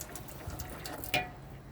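A tap inside a touring caravan runs continuously, a faint, steady hiss and trickle of water with a brief splashier burst near the end, no voices over it.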